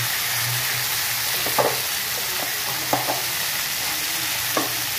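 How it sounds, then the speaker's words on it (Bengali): Continuous hiss of onions frying in oil with boiled banana, with a few soft scrapes and taps of a spoon stirring the pan. "পেঁয়াজ দিয়ে দিয়েছি, পেঁয়াজটা ভাজা ভাজা হবে।"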